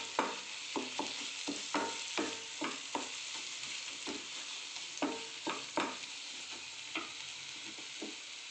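A spoon stirs fried tomato masala with garam masala in a sizzling pan, giving repeated scraping strokes at an irregular pace over a steady frying hiss. Nobody speaks.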